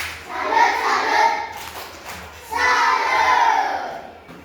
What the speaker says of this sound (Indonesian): Oke, tepuk tangan untuk Rival.